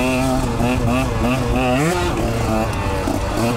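Revving two-stroke engine of a KTM 125 XC dirt bike, pitch rising and dropping as the rider shifts down, loud and close throughout with a voice talking over it.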